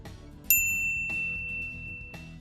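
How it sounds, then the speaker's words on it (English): A bright notification bell ding rings out three times, each strike sharp and clear with a long shimmering ring-out, spaced about half a second to a second apart, alone with no voices. "ring the bell to be notified about our latest videos"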